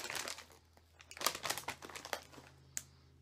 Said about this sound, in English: So let's go ahead and pop the bag.